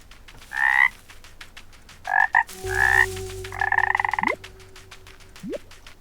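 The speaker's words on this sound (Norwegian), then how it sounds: "Der er det en frosk." A frog croaks in several short, raspy bursts, alone and fairly close, separated by brief pauses, with a few faint chirps in between.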